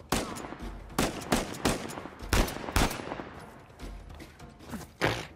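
Bursts of gunfire from a sniper in the video game Uncharted 4 crack out loudly, about a dozen sharp shots in uneven succession over a rumbling backdrop.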